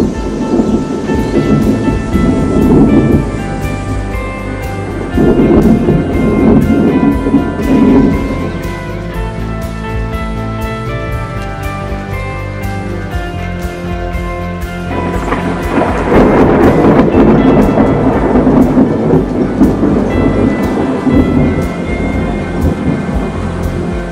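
Rolling thunder from a spring storm, low and sustained, with swells of louder rumbling early, around five seconds and again after fifteen seconds, alone without talk.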